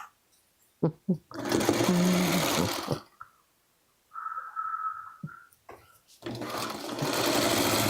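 Sewing machine stitching quilt blocks together, running in loud, steady bursts of a few seconds each with short pauses and handling sounds between them, plus a brief higher whir in the middle.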